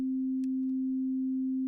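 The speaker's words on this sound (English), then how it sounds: "sounds like a sine wave" A steady pure sine test tone, pitched down four octaves and then back up, holds a single clean unwavering pitch throughout, with only a faint click partway through and no audible distortion.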